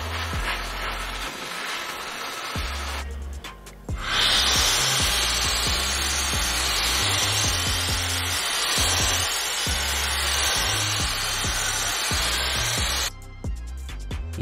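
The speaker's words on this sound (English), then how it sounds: "I purposely dirtied my equipment to demonstrate how effortlessly the VSGO electronic air blower can" A VSGO electronic air blower cleans camera equipment with a loud, close, steady whirring rush of air, starting and stopping in bursts with a long continuous blast in the middle.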